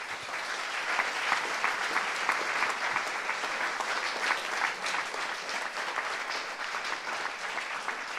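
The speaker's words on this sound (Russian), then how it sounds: "я зову Алексей Ситников, пожалуйста, под ваш аплодисмент." An audience applauds a guest being invited onto the stage, dense continuous clapping held at an even level throughout, no speech over it.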